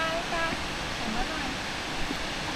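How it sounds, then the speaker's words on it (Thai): A waterfall in Japan gives off a steady, full rushing roar, with faint voices of people talking under it. "ทางลงไปน้ำตกนะครับ"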